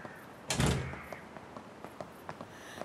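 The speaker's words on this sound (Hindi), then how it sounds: "दरवाजा बंद करो।" A door in a ranch house closes with one solid thud, close and fairly loud, followed by quiet room tone and a few faint knocks.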